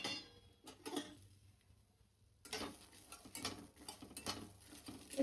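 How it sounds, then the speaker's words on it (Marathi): Dry pigeon pea (tur) grains roasting in a pan over a gas flame, giving scattered light ticks and patters as the grains shift, with a quiet lull in the middle before a denser run of rattling taps. "तुरीचे दाणे छान भाजून घ्यायचे."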